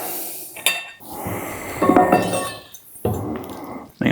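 Drinking glasses clink together in a toast during a brewery tour, with a few bright chinks over a busy room hum and low chatter nearby.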